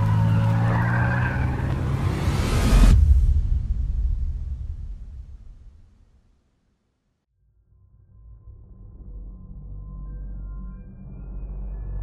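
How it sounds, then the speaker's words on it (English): A car speeds off in a horror audio drama, a loud engine roar and squealing tires for about three seconds that cut off sharply and fade into silence, followed by a low rumbling ambience building back up. "Throwing the car in drive, Jerry mashed the gas and sped out of the lot"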